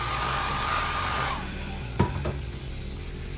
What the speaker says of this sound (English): Hair dryer tonight.